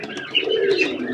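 Pigeons cooing softly at close range while being fed at midnight, a couple of brief throaty coos over quiet surroundings.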